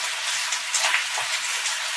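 Cumin seeds fry in hot oil for a cauliflower, bean and potato stir-fry. The sizzle is steady and hissing, with faint crackles, and holds close and even throughout.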